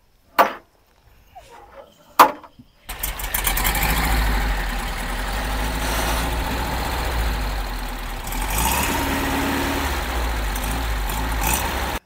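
A 1986 Volkswagen Kombi motorhome engine cranks twice with short bursts, then catches near 3 seconds and settles into a steady, close idle with a rough low rumble through to the end, the revs rising briefly around 8 seconds.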